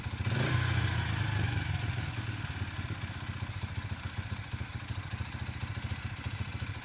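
A Yamaha TTR 125 dirt bike engine gets a short rev that swells and then settles into a steady, chugging idle with a fast, even pulse, heard close by in a backyard during maintenance.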